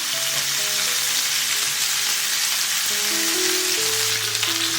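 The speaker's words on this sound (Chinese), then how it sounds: "我们给它每个面都煎一下，多翻动，煎到表面有焦斑，大概8成熟。" Constant crackling sizzle of pork bones frying in oil until golden with charred spots, steady and close with no talking.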